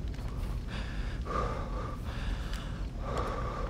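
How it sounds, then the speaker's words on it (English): Heavy, ragged breathing from a character in the King Kong video game, snorting and gasping in repeated breaths over a continuous low rumble of game ambience. "Stop breathing so heavy, Jack."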